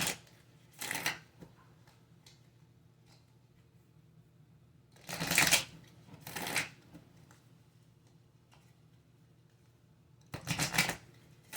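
Oracle cards being shuffled in three quick riffling bursts, close and crisp, separated by quiet pauses with faint handling noise.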